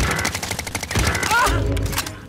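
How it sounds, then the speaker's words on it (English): Rapid automatic gunfire in Call of Duty: Modern Warfare, a dense run of close, punchy shots followed by heavier bursts, with brief game voice callouts mixed in. "Under fire! Taking fire!"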